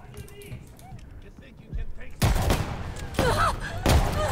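Sniper rifle shots in Call of Duty: Vanguard, a few sharp loud cracks spaced about a second apart after a quieter stretch of ambient game noise and distant clatter.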